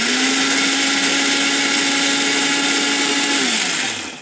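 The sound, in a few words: blender/mixer grinder grinding spices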